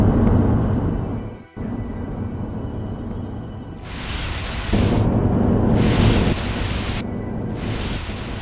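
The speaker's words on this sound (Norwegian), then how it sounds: "Kaptein Black ventet til eksplosjonen i rørgaten kom. Den var så kraftig at den ga gjenlyd og ekko i fjellene rundt." A huge explosion in a penstock pipeline among mountains, a sustained heavy rumbling roar with repeated booming surges and echoes rolling back from the surrounding peaks, loud and continuous.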